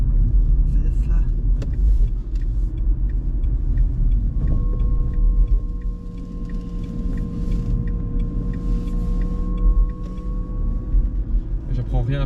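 2023 Renault Twingo electric car driving, with steady road and tire rumble and a faint rising electric motor whine heard from inside the cabin while people talk over it.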